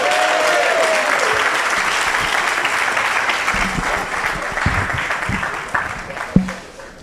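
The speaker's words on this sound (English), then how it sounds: "So I think we all owe a round of applause to Barry Gurvich" A synagogue audience at Beth Sholom gives Barry Gurvich a sustained round of applause, loud dense clapping that carries steadily for several seconds before thinning out, with a few louder individual claps near the end.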